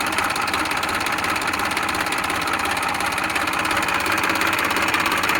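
A Massey Ferguson 1035 Maha Shakti tractor engine idles with a loud, steady diesel chug and rattle that stays constant throughout, close by and with no talking.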